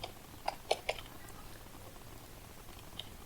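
Several quiet keystrokes on a computer keyboard: a quick run of three taps, then a lone tap after a pause, faint over a soft room background.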